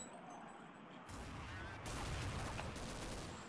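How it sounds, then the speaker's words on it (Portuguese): Gunfire in Counter-Strike 1.6 on the de_dust2 map: dense, continuous rattling shots build up and carry on without pause, loud and close, with no talking over them. "os caras ficam aqui atirando em mim"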